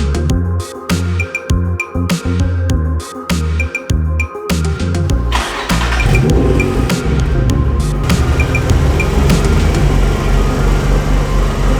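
Nissan 350Z engine idling as it backs into a garage, a low choppy rumble broken by sharp clicks and knocks early on, then a denser, louder steady engine sound.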